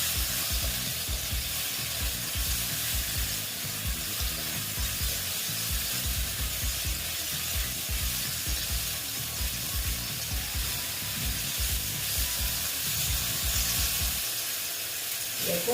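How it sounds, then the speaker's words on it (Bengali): Pointed gourd sautéing in a pan with chili powder makes a steady, close, scraping stir with a rhythmic rub and clatter throughout and no talking. "দেখো দিয়ে আমি এটাকে একটু কষিয়ে নিচ্ছি দেখো"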